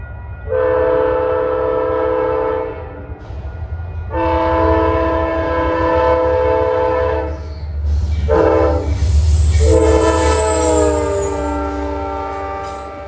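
An Amtrak 239 locomotive from New York to Albany sounds its chord horn in three loud, long blasts with short gaps, over the deep rumble of the passing train.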